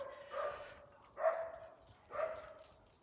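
A dog barks three times in a workshop during a manual gearbox rebuild, each bark a clear, moderately loud yelp spaced about a second apart with no talk over it.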